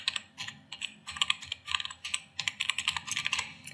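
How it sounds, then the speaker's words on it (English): Fingers type a web address on a computer keyboard, giving close, crisp clicking keystrokes in quick irregular bursts with short pauses between groups. "I'm going to type in http:// and I'm going to enter a URL right there."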